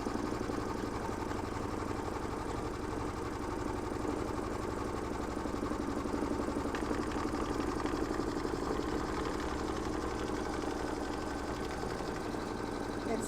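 A sewing machine double stitching a quilted mug rug runs continuously with a steady rapid mechanical chatter, close and even in level throughout.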